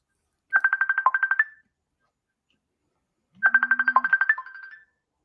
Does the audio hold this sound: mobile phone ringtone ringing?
yes